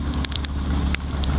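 A trawler crossing the rough Payra River in heavy waves, with a steady low engine drone and water rush throughout, a few brief splashes or knocks on top, wind buffeting the microphone.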